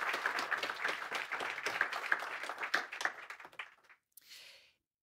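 Conference audience applause after a talk on AI and the climate: a moderate crowd clapping for a few seconds, then thinning out and fading to silence with a brief last patter.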